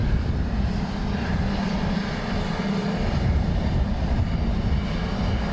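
Airplane passing at Dublin Airport in crosswinds gives a steady, broad engine roar that stays loud and constant throughout, with no talk.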